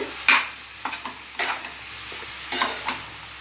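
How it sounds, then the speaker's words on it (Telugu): Ridge gourd pieces being mixed in a pan: several sharp, close scrapes and clinks of a spoon against the pan in an irregular rhythm, over a quiet low sizzle. "బీరకాయ ముక్కలు వేసి ఇదంతా బాగా ఇలా కలపాలండి"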